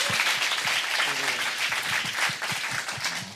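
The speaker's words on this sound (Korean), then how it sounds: "자, 우리 뜨거운 박수 한번 부탁드리겠습니다." A studio audience at a Korean talk show claps in sustained, dense applause for a guest coming up on stage, the clapping steady and loud throughout with some faint voices mixed in.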